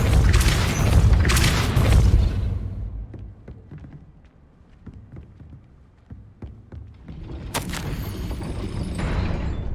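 Gate mechanism raising in the Hogwarts Legacy game: heavy rumbling booms open and close the sequence, with a quieter stretch of sharp rhythmic clanks and taps between them.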